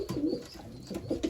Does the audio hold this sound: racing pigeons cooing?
yes